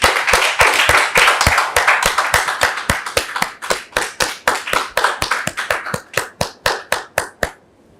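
A French-language studio audience claps in unison, with sharp, evenly spaced rhythmic claps close to the microphone that gradually thin out and stop, with no voices.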